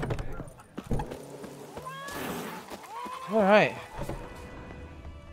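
Roach the horse in The Witcher 3 on PS5 gives a clear whinny and scattered hoof clops, with someone speaking briefly over it.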